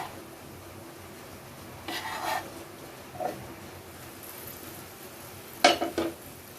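Paneer, cauliflower, potato, cashews and other vegetables are stirred in a pan, a few short scraping rubs of a spoon across the metal with a brief clink, close and otherwise quiet.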